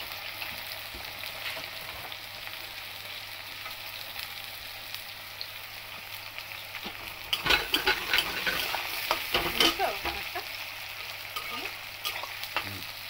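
Chopped onion fries with chicken in a pan, with a soft sizzle for the first half that then grows busier. Scraping, stirring strokes come in the middle, close by, with no talking.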